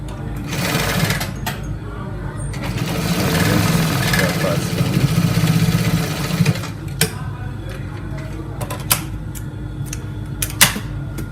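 A sewing machine runs close and loud for several seconds down a trouser seam, then keeps a lower hum broken by sharp clicks and knocks, with a voice speaking over part of it.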